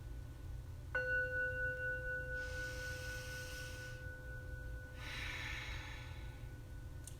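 Slow breathing in and out through the nose with lips sealed, as in a kids' yoga breathing exercise: two soft, airy breaths over a faint steady background tone.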